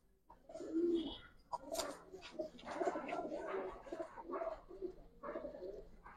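Pigeons for sale, racer and colouring types, coo nearby in a series of soft, throaty, rolling calls that overlap and repeat irregularly.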